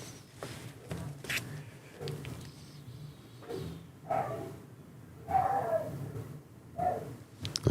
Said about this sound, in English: Okay, guys, you can hear the dogs barking.